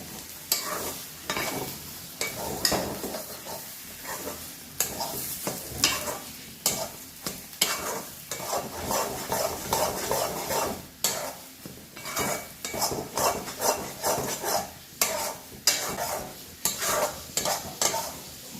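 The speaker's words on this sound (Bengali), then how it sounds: "এবার এটাকে ভালো করে নাড়িয়ে নেব।" A mustard paste mixture stirred vigorously in a pan, with repeated rhythmic scraping and clinks of a spoon against metal over a soft sizzle, carrying on without a break.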